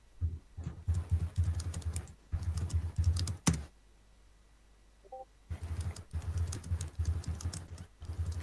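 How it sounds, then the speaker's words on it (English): Rapid, forceful keyboard typing in several dense bursts separated by short pauses, close and loud, with a brief quiet stretch in the middle. "Aggressive typing."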